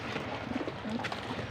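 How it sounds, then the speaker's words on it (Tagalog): Pigeons being fed, with soft cooing and murmuring from several birds nearby, faint and low in a short stretch. "Magpaputuka tayo ng kalapati."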